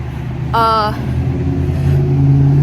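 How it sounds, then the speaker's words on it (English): Loud road traffic rumbles throughout, with engine noise building and a low steady drone, while a brief tonal burst cuts in early. "Loud cars."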